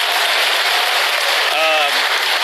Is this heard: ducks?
no